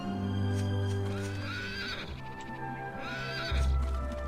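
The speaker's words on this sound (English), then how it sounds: "Horse, you make weird noises." A horse in the video game Dragon Quest VIII whinnies loudly in a long, wavering neigh, followed by a second neigh with low snorting rumbles, alone and close.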